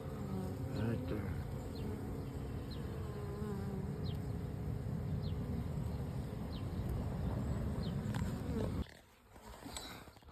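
Honey bees buzzing steadily around open hive boxes as nucleus colonies are installed outdoors, a dense continuous drone close by, with a brief handling clunk near the end.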